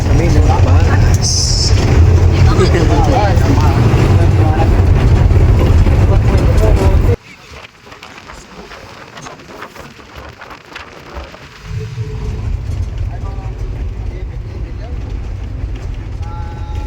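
Riding a bus on the way to Estancia, Iloilo: a loud, constant roar of engine and road noise inside the cabin, cut off abruptly partway through, then returning at a lower level.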